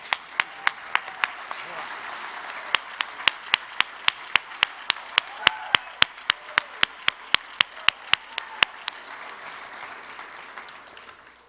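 Audience at a gala gives a sustained round of applause, with sharp, regular close claps, likely from a microphone, punctuating the softer crowd clapping throughout.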